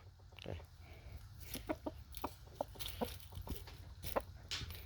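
Chickens clucking in short scattered bursts over a steady low rumble, fairly quiet and somewhat distant, with a few sharper calls standing out.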